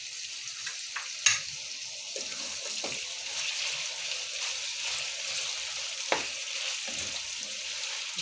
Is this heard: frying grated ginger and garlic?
yes